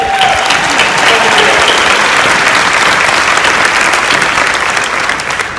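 An audience at a national planner conference in Austin, Texas, claps in a sustained, dense burst of applause that fills the room and fades slightly at the end.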